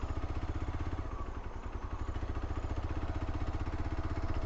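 A motorcycle engine idles steadily before parking near a bridge on the way to a Mahadev temple, a low rapid chugging pulse that stays even and moderately close, with no talk.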